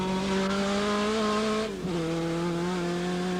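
A TVR Tuscan race car at full revs brakes hard and changes down through the gearbox during a 1997 Tuscan Challenge race. A sustained high engine whine drops sharply at each downshift, then settles again, loud and close.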